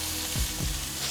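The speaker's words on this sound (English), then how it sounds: "I'm just gonna sear the sides real quick" A steak searing on its sides in a hot pan, a loud continuous sizzle with a couple of low thumps as the meat shifts, close by and with no speech.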